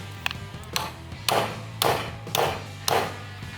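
A metal bracket for a pedal car build is bent in a vise, giving a series of sharp taps and ringing knocks spaced about half a second apart over a low background hum.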